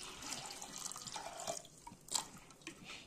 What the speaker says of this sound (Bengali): এতে দিয়ে দিলাম জল।